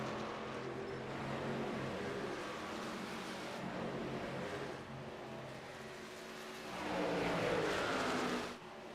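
Race trucks roar around the track on the final lap of a Truck Series race, a steady engine drone that swells as they pass close before dropping away again.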